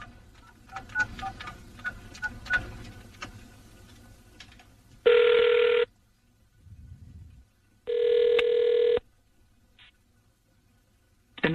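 An unanswered phone call: after a quiet stretch, two long ringback tones sound about three seconds apart, with only faint background noise between them and a third ring starting at the very end.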